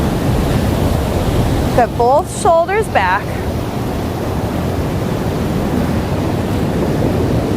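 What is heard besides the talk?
ocean waves and surf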